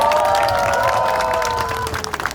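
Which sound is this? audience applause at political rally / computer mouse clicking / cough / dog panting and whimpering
audience applause at political rally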